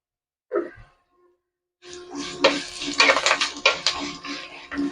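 Spices for a homemade rambutan pickle, cumin among them, are stirred in a pan. Utensils clink and scrape against the metal in a steady, close, moderately loud run after a brief knock and a pause.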